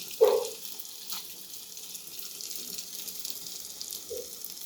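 Semolina and pigeon pea pancake batter sizzles on an oiled pan with a soft, steady hiss, opening with a brief louder spatter as it is spread.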